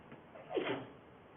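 A single short sneeze bursts out in a quiet conference room, brief and moderately loud against a faint hiss of background noise.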